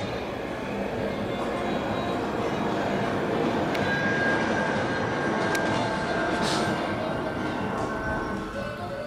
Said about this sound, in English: Coaster train going by.